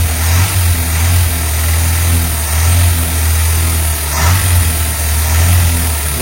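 A loud, rough engine hums steadily close by, swelling and easing a few times as an abandoned old Renault Estafette van creeps along, with no voices.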